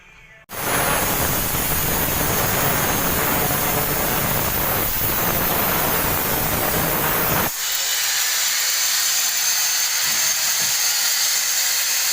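A power drill bores during installation of lightweight heat-insulation wall panels on a house, giving a loud, continuous, rough roar for about seven seconds before cutting off into a steady thin hiss.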